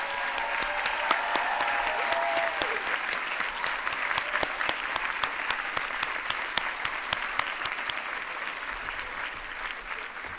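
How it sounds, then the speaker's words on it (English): A college commencement audience applauds, a dense, sustained wash of clapping from a large crowd that carries on evenly for the full stretch. A brief tonal voice or whistle rises early on, and the applause stays moderately loud. "I would like to give them a big round of applause for recognizing that"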